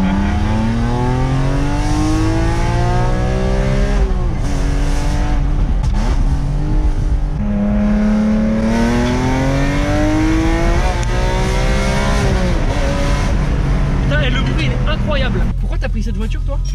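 BMW M3 E46 with a 360-horsepower naturally aspirated engine revving hard, loud rising and falling engine tones with a metallic edge repeating across the whole stretch, close up, with people talking over it at times.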